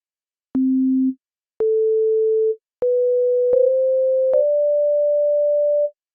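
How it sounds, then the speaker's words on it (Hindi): Pure synthesizer sine-wave tones sound one after another, loud and clean, each note stepping higher in pitch and the last held longest, with no voices. "Sine wave most simple wave है और ये लाई करती है 200 से 300 हर्ट्ज में।"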